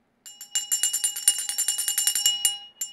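A small handheld bell, the kind once sold at Dollar Tree, rung quickly and repeatedly for about two and a half seconds in a steady, close, bright jangle with no talking over it.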